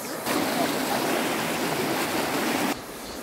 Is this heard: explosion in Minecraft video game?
no